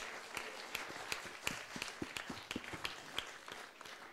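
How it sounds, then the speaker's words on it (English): Quiet, scattered clapping from a small audience after a conference panel on women in global economic governance, individual claps standing out as a thin, uneven patter. "Big applause to them,"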